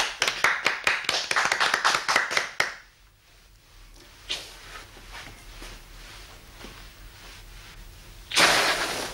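Children clap in a quick burst of sharp, rhythmic claps that stops abruptly, followed by a quieter stretch with scattered taps and a final loud burst of noise.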